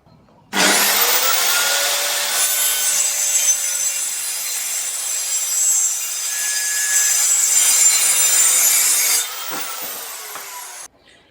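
Handsaw cutting a wood plank for a marten trap box, one continuous run of loud rasping strokes for about nine seconds, close and alone.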